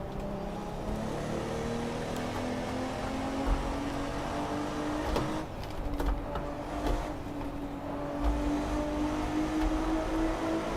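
A 500 hp Lexus GS300 engine in Assetto Corsa revs for a launch on worn tires, a continuous loud drone with a slowly rising pitch that holds steady throughout.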